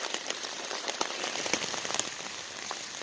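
Heavy rain pouring down in woods beside a creek, a dense steady hiss of drops pattering on leaves and ground with scattered sharper close drips, continuous throughout with no voices.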